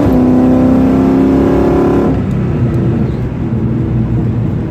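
A Jeep accelerating hard from 50 to 70 mph roars loudly up close with a rising engine drone, then shifts midway into a rougher, broader rush of engine and road noise that stays strong throughout.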